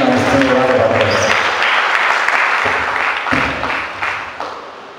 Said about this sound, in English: Please let us give him an esteemed round of applause.